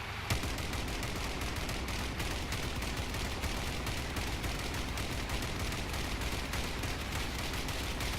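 Vehicle-mounted weapons fire continuously in the combat car game Crossout, a dense, unbroken barrage of rapid gunshots and cannon blasts lasting several seconds with no voices.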